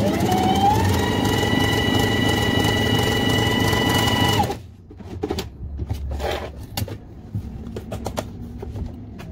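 A sewing machine stitches a straight seam with a loud, steady whirring hum for several seconds. It then stops abruptly, leaving quieter clicks and handling sounds.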